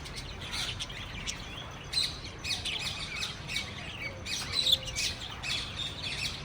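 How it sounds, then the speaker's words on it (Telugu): Small birds chirp and tweet in scattered short calls across a quiet outdoor zoo park in Warangal, moderately distant, with no talking. "పక్షుల సౌండ్లు మాత్రం చాలా వినసొంపుగా అయితే మస్త్ అంటే ఉంది"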